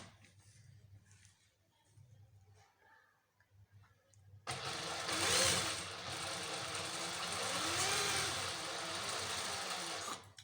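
Sewing machine stitching a neckline, starting after a quiet stretch with some talk and then running as a loud, steady, continuous whir until the end.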